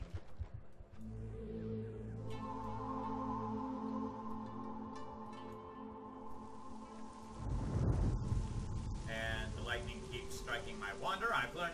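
In the god game Black and White, a deep rumble of thunder breaks out over a steady game soundscape with rain, while a person talks over it.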